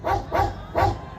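A man imitates a dog with his voice, giving three short, loud, woofy barks in an even rhythm, close to the microphone.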